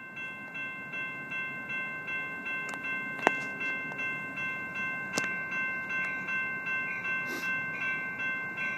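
Amtrak passenger train 97 rolling into Martinez station in California, a steady rumble with tonal squeal and a few sharp metallic clanks, heard from a moderate distance.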